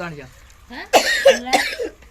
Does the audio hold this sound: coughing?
yes